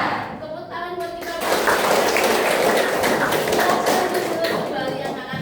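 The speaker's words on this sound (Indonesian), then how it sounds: "Tepuk tangan buat kita." Indonesian high-school classroom with students clapping together, a dense broadband patter of hands that swells to a steady loud level and holds, with some voices mixed in near the start.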